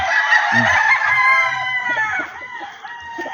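A fighting rooster, a stag at a game farm, crows loudly and close, one long cock-a-doodle-doo followed by a few softer clucks.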